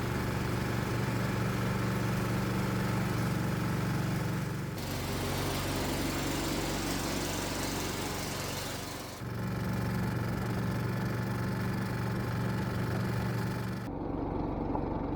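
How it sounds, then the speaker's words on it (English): A golf cart engine runs steadily with two people aboard, a continuous mid-pitched motor drone with rumbling vibration that shifts tone in a couple of sections, as if throttle changes, close and without talk. "It'll be interesting to see how the cart performs with 2 people on board."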